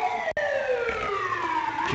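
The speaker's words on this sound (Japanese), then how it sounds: "救急車が来ました、救急車。" An ambulance siren wails outside, its tones sliding in pitch and growing louder as it passes nearby, with a brief gap near the start, heard over faint street traffic.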